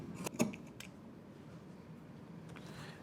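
Scissors trim about a quarter inch off the raw edge of fabric for a cropped jacket: a few crisp, close snips come at the start, followed by quiet rustling.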